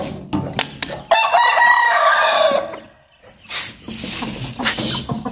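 Village chickens and a rooster, with the rooster giving one loud, close crow in the middle and scattered clucks and short calls from the hens before and after.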